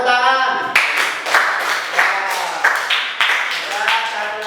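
Students in a classroom clap briefly in a few bursts of scattered hands, following a short drawn-out voice at the start.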